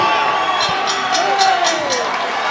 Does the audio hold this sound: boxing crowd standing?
yes